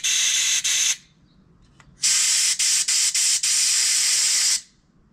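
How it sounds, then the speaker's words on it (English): Loud bursts of hissing compressed air blown through the carburetor orifices of a Honda lawn mower, one short blast, then a pause, then a longer blast broken by several quick interruptions. "Blow this orifice out. You can see the material coming out both ends of the carburetor."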